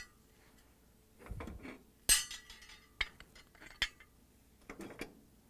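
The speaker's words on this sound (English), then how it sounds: "start with taking off the burner grates. Then I'm going to move the burners and the burner caps." Metal burner grates, burners and burner caps lifted off a GE gas stove, giving scattered clanks and clinks spread over a few seconds, with one sharp bright clatter and a few lighter knocks in a quiet room.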